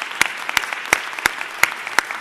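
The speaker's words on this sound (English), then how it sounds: "I'd like us all to give a round of applause to our conference chairs" Audience at a museum educators' conference gives sparse applause, a handful of separate sharp claps spaced out at an uneven rhythm over a faint background wash.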